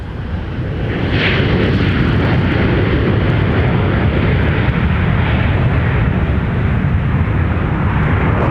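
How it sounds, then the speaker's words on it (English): American Airlines flight 3103 from Dallas-Fort Worth arriving to land at Minneapolis-St. Paul airport, its jet roar swelling within the first second and then holding loud and steady, close by and alone. "Here's American Airlines 3103 coming in from Dallas"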